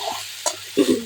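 Food sizzles in a pan with a brief stirring scrape and a couple of short louder bursts of frying, close and steady.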